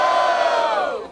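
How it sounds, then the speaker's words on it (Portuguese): Crowd roaring and cheering at a rap battle, the Batalha da Aldeia in Barueri, São Paulo, a loud sustained burst of shouting voices that tapers off near the end. "Barulho para as rimas do Kurt"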